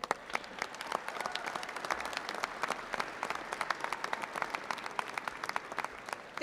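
Audience applause at an outdoor food rally and press conference, many people clapping in a crisp, steady patter at a moderate distance, continuous throughout with no voices on top.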